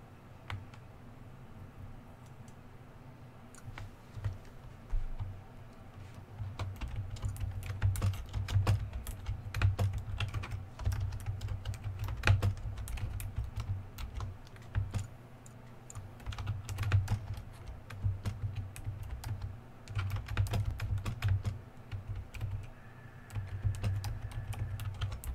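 Steady clicking of keys on a computer keyboard, bursts of fast typing with brief pauses, close and fairly quiet with a low background hum.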